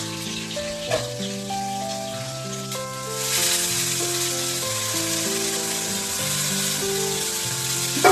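Vegetables frying in a pan hiss and crackle under a loud, sustained layer of steady melodic tones, the sizzle growing denser and brighter partway through and holding to the end.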